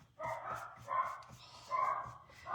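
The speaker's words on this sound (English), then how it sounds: "She'll start it, then the other two will bark" Dogs bark indoors in a few muffled, repeated bursts, moderately close, with no talk over them.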